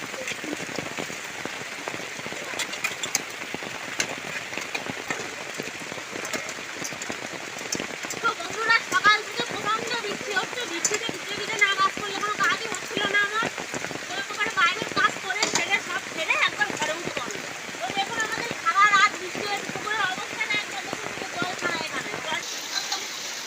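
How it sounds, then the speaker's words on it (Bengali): Heavy rain pouring down in a village, a dense, continuous patter of drops on surfaces that stays loud and close with busy bursts throughout. "তো প্রচণ্ড বৃষ্টি হচ্ছে"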